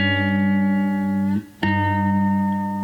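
A sustained, buzzy note from a fretless cigar box guitar played with a misplaced slide, sour and out of tune, briefly cut off and then ringing again, close and fairly loud.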